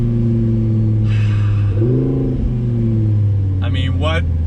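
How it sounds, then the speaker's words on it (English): Rear-mounted V10 of a bright yellow 2018 Audi R8 V10 Plus Spyder rumbling at a steady, loud idle, then briefly revving up and dropping back in a short burst, heard from inside the car. "I just wanted to kind of channel that sound into this car from that rear mounted V10."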